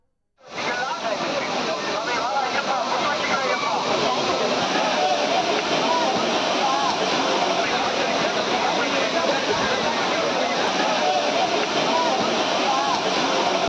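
Courtallam's main waterfall pours in a loud, steady, broadband roar that starts abruptly and holds unbroken for the whole stretch, close and dense.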